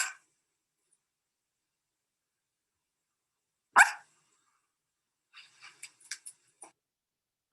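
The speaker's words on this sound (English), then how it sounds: "So that's Minnie squeaking and barking in her sleep" Minnie, a sleeping dog, lets out a sudden muffled bark mid-dream, then after a pause a cluster of small squeaks and whimpers in quick succession, all faint and isolated against silence.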